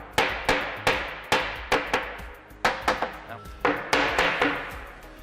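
Repeated sharp taps and knocks as a corner cabinet panel is eased down onto tight dowels, about a dozen close, irregularly spaced hits with quick decays.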